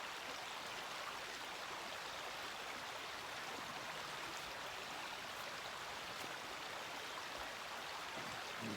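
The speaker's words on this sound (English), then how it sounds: "So just relax and listen to the river." A river flows steadily as a continuous broadband rush of water, even and unbroken throughout, with no voices.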